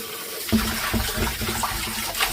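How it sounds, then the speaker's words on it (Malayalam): Water splashing and sloshing as sardines are washed in a vessel, a steady close wet swirl with soft knocks and no talk. "ഒരു പത്ത് വെള്ളത്തിലേക്ക് ഞാനിവിടെ കഴുകും നല്ലതുപോലെ എടുക്കണം"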